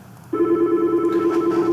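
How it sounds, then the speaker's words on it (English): A steady electronic tone sounds close and clear, starting abruptly and holding for over a second, like a phone line ringing. "you can hear already that my phone is ringing"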